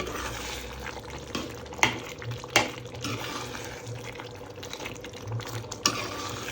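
Water is poured into a simple chicken curry gravy, a steady splashing wash with a few sharper clinks along the way.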